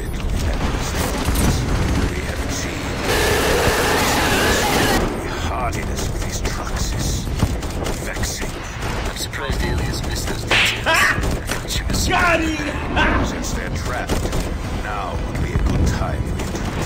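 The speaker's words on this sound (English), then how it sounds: "Successfully fired the first round of missiles. Preparing for the second barrage now." Missile barrage launched in Call of Duty Mobile, a run of heavy booms and rumbling bursts amid continuous game action, with talking layered over the explosions throughout.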